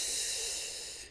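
A steady breath drawn in through the nose during a breathwork-with-movement exercise: a single continuous airy hiss, close and fairly quiet, fading out at the end with no talking.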